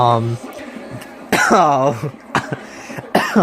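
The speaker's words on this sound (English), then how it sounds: "I'm a little sick, so I started coughing" A person coughs and clears their throat several times in short bursts, with spoken words mixed between the coughs.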